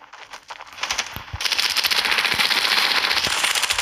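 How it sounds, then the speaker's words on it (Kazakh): Sustained rapid automatic gunfire in the video game Standoff, building after a few scattered shots into a continuous crackling rattle. "Бірақ мынау әлгі бір мылтықпен атып тұр."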